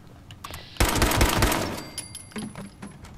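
Close, loud rapid gunfire in Fallout 76, a dense burst of about a second, followed by fainter scattered clicks and a few lighter impacts.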